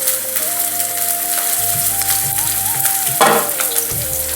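Cumin seeds, chopped green chillies and curry leaves sizzle loudly in hot oil in a pan, a dense close crackle with a brief burst of spattering partway through.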